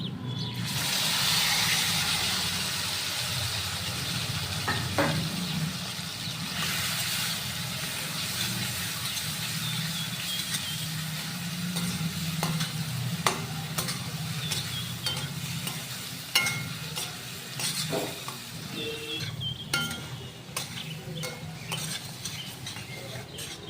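Garlic and a spice mix sizzle steadily in a hot pan with the carrots of an Indian sabzi, stirred repeatedly so a spoon scrapes and clinks through a constant frying hiss.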